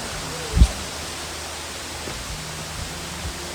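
A hidden waterfall gives off a constant broadband rush of falling water. One brief thump stands out near the start.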